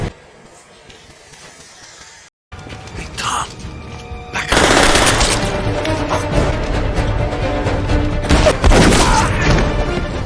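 Gunfire crackles through a film fight scene after a quiet opening and a brief silence, with loud bursts of shots, crashes and impacts building into a dense, continuous battle din; a voice talks faintly beneath it.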